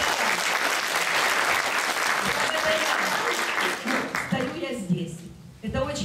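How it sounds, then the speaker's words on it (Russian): Audience bursts into applause, a dense roar of clapping for about four seconds that thins out and gives way to someone speaking over the last scattered claps. "Вы заслуживаете аплодисментов"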